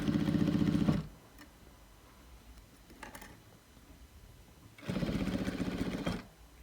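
A sewing machine stitches a new seam on a bolster pillow in two short bursts of rapid, close mechanical chatter, separated by a few seconds of quiet with faint clicks.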